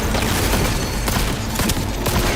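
Rapid gunfire crackles in the video game Cyberpunk 2077, a dense, loud barrage of overlapping shots with sharper individual cracks punching through the continuous din.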